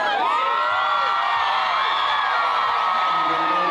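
Concert crowd cheering and whooping after an a cappella number, a dense, steady roar with shrill overlapping whoops and screams throughout, loud and sustained.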